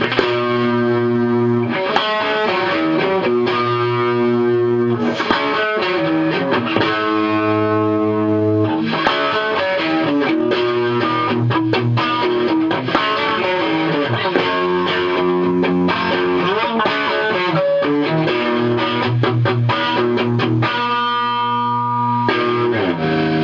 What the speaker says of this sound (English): This pedal just gives some more variety of the sound, plus it's a little bit more distortion in it